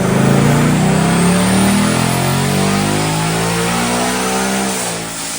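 A 2024 S650 Mustang GT fitted with an ESS supercharger revs hard on a dyno, its engine note climbing loud and steady through one long pull before easing off near the end.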